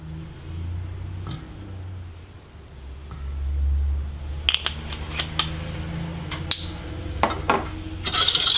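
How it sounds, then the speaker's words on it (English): French toast batter being lightly whisked in a bowl, brief clusters of quick clinking metal-on-bowl taps that become denser toward the end, close by, with a low hum underneath. "And a light whisk again"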